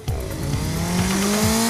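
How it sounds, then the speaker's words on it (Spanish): An engine revs continuously, pitch climbing steadily with a rough, buzzing roar, loud and close throughout. "Iba el negro Lex vestido con su chaqueta de cuero de pija en su motocicleta."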